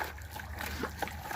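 Shadow the dog splashing through water in short, choppy bursts, close by, with a person's voice calling over the splashes.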